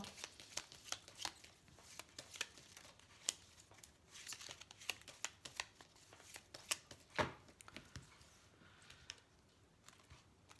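Angel oracle cards shuffled by hand with a steady, rapid papery riffling and flicking, near and fairly quiet, with no talking.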